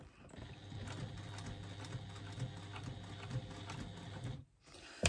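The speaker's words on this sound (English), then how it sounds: "you're kind of almost stitching from inside of your pouch at this point" A sewing machine stitches a fabric pouch from the inside, a steady rapid mechanical rattle with a low motor drone, close and continuous, ending with a brief stop and a clunk.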